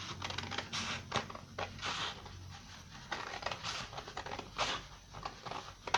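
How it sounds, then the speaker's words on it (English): Scissors or a cutter slicing paper along a crease for a tiny gift box give quiet, close, irregular snips and rustles with no talk. "And I'm just going to cut it on the crease all the way down."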